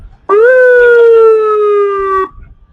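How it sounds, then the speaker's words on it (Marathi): A fire engine's loud, steady electronic siren wails at one pitch for about two seconds, then cuts off abruptly, heard close with no talking. "अशा प्रकारचे सायरन पण आहे त्याच्यात"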